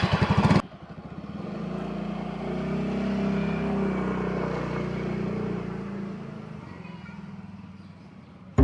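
A motorcycle engine roars at close range, swelling and settling in a sustained rev with a rough low drone that fades toward the end, after a brief burst of other noise at the start.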